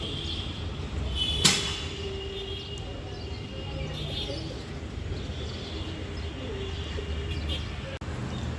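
Pigeons cooing softly in a plant or tree outdoors: low, fairly faint murmuring coos over a steady background, with a brief sharp knock early on and some voice present.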